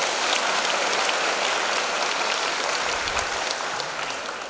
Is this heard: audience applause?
yes